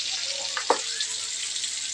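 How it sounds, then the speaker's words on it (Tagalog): Galunggong fish fry in hot oil with a steady, close hiss and sizzle, dotted with small pops and crackles. "Habang nagpiprito po"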